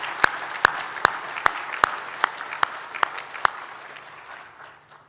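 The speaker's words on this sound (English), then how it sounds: "Please join me in a round of applause for our Chancellor" Graduation ceremony audience at Victoria University applauding the Chancellor: crisp, evenly timed close claps over a crowd clapping behind them, thinning and fading away toward the end.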